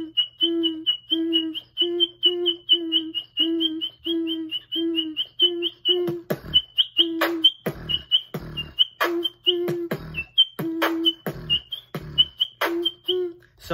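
A beatboxed bird whistle, a voice imitating a bird, repeats as rapid chirps with a steady hum underneath, later broken by sharp percussive beatbox hits in a quick rhythm.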